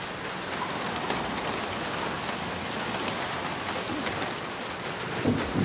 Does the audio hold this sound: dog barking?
no